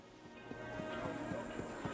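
Hooves of a donkey in the video game Assassin's Creed Valhalla clop in a steady, fairly quiet rhythm of soft thuds over low game ambience.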